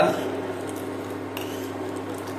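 A spoon stirs masala chai in a pot on the boil, giving soft metallic clinks and scraping over a low steady hum, with a voice talking at the start.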